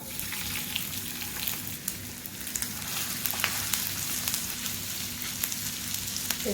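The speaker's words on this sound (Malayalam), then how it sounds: "ചൂടായ വെളിച്ചെണ്ണയിലേക്ക് നമ്മൾ കട്ട് ചെയ്ത് വെച്ചിരിക്കണേ ഇഞ്ചി ഇട്ട് കൊടുക്കുക" Soft, continuous sizzle of ginger frying in hot coconut oil, with faint crackles and a low background hum throughout.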